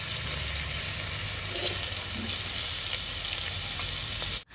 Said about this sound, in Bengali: মাংসগুলোকে হালকা করে ভেজে নিয়েছি